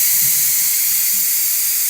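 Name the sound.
steam hissing from pressure cooker exhaust valve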